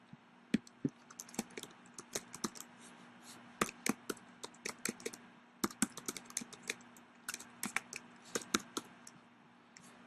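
Fingers type a file name on a computer keyboard in quiet, sharp clicks arriving in uneven bursts and short runs, close and alone.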